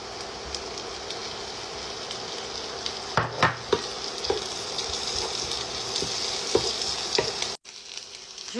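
Onions and mushrooms fry in butter and oil with a steady, close sizzle, broken by a few louder stirring scrapes, before the sound drops abruptly near the end.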